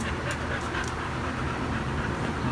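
A dog pants rapidly and steadily up close for the whole stretch, a rough breathy rhythm with a few sharper bursts early on, no talking over it.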